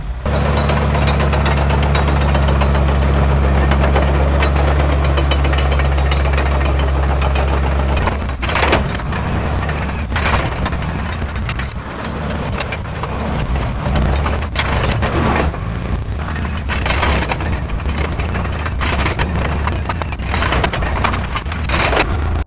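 A Caterpillar D4H bulldozer clears dirt at a pond site, its diesel engine rumbling loud and close with a steady low drone, then shifting to harsher scraping and clanking as it works the soil.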